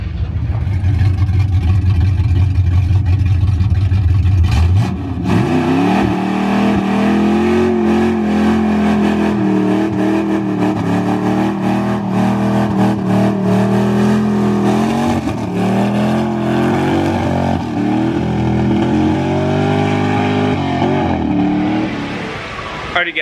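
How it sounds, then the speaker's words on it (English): A truck with an LBZ diesel and freshly installed Allison transmission roars through a burnout: a deep idle rumble, then a sudden loud surge at about five seconds into sustained high revving that wavers and holds, close and alone. "let's do a little burnout."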